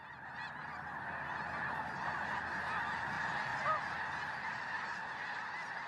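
A huge flock of migrating snow geese honks nonstop, a dense chorus of overlapping calls that sounds distant and steady, with no talking.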